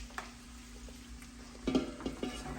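Cabbage dropped into hot bacon grease after the onions come out, a soft sizzle with a steady hum, then louder stirring scrapes and frying crackle toward the end, close and moderate.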